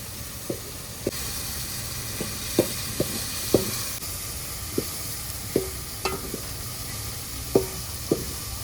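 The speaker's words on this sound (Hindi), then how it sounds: "तड़का लगा दिया है गुरुजी ने दाल में" Dal being tempered with a tadka on the bank of the Narmada river: a steady oily sizzle and hiss, with a series of sharp utensil knocks and scrapes as the pot is stirred, close by with no talk.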